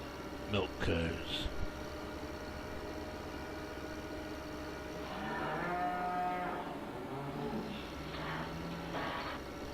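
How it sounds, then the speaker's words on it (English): Dairy cows on a farm give a few long, drawn-out moos at moderate distance over a low background hum, after a brief clatter at the start. "milk cows."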